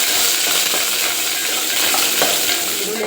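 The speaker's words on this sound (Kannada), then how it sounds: "ಈರುಳ್ಳಿ ಎಲ್ಲ ಚೆನ್ನಾಗಿ ಫ್ರೈ ಆಗಿದೆ" Finely chopped onion fries in oil with mustard seeds and curry leaves, producing a loud, dense, continuous sizzle with faint stirring rattles throughout and no voices.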